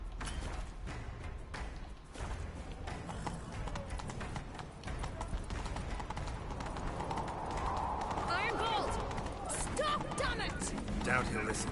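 Horses galloping in The Witcher 3, hooves clip-clopping rapidly in a steady run alongside game music and ambience, with voices talking over parts of it.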